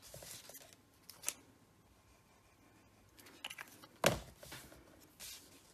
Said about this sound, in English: So I'm going to cut the end off.